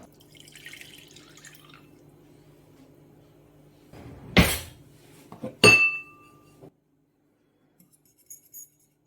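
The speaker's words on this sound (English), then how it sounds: "mix the corn flour, the lemon juice and the zest and mix together" Quiet stirring of corn flour, lemon juice and zest in a bowl under a low steady hum, then two sharp metallic clinks of a utensil striking the bowl, the second ringing briefly before silence.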